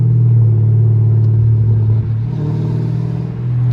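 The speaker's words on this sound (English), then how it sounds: "Can you hear the exhaust doing that shit?" A 500-horsepower Dodge Scat Pack V8 burbling on the freeway, heard from inside the car as a loud, deep, steady exhaust rumble with a brief dip partway through.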